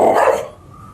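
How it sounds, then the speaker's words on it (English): A dog growls ominously at a man's feet on the moors, a short, loud, close rumbling snarl that fades quickly into quiet. "At his feet a dog growled ominously."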